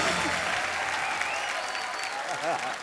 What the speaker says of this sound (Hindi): जोरदार तालियां यामी, ऋतिक सर और उर्वशी के लिए, और मेरे लिए और भी जोरदार।